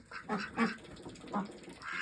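Several ducks on a farm quack in short nasal bursts, close by and fairly quiet, with a brief rustle between calls.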